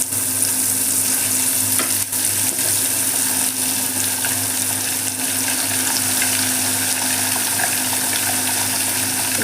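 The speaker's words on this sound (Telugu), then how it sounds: "మంచిగా ఇప్పుడు ఒక్కొక్క పీస్ వేసి మనం ఫ్రై చేస్తాం" Apollo fish pieces frying in well-heated oil, a loud, dense, continuous crackling sizzle close by with a faint low hum underneath and no talking.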